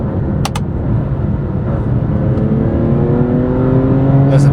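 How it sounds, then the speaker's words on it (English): BMW M2 CS with DCT gearbox, its engine revving under load while driving, a steady loud drone with rising tones that climb steadily through the run, heard from inside the car with no talking. "Listen to that engine."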